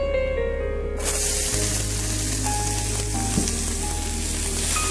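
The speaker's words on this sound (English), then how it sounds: "Now we're going to add in the onions." Steady, loud sizzling and crackling of onions frying in hot oil in a pan, continuous throughout with faint background hum.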